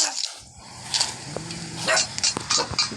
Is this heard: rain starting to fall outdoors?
no